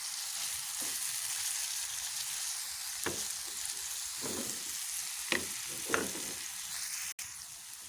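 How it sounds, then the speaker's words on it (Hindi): An omelette mixture seasoned with turmeric and cumin powder frying in a pan, a steady hissing sizzle throughout with a few soft clicks and scrapes of stirring. "हाफ चम्मच हल्दी और हाफ चम्मच ज़ीरा पाउडर ऐड किया मैंने। मिक्स करते हैं।"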